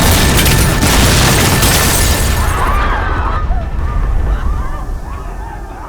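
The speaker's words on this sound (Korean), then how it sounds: "결국 폭발물이 터지지만" A bomb blast in the Korean TV drama 북극성 erupts as a loud, dense roar with shattering debris, slowly fading over several seconds while faint tonal cries rise in the tail.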